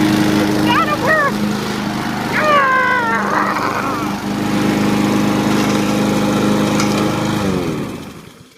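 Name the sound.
lawnmower engine running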